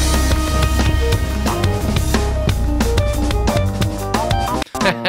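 Full, loud drum track with replaced drum samples: heavy, punchy kicks and bright snare hits driving a steady beat beneath a busy mix, briefly dropping out near the end.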